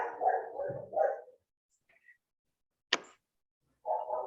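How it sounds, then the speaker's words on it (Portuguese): A dog barks in loud, close bursts at the start and again near the end, with a short sharp yelp in between, interrupting a meeting. "O cachorro está latindo aqui"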